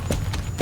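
Horse hooves clip-clop during a race in the video game Star Stable, three crisp, evenly spaced hoofbeats, fairly loud and close, with no talk.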